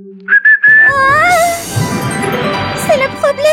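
Someone whistles a short, bright melody in a French children's cartoon. Rising and falling tones sound up close, then give way to a busier background with a few brief whistled notes near the end.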